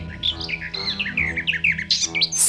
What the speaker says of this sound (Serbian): jedna ptičica stade da joj leti oko glave i cvrkuće